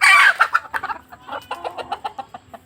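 Desi country chickens cluck and squawk close by in a farm enclosure, one loud burst at the start followed by a steady run of short, rhythmic clucks.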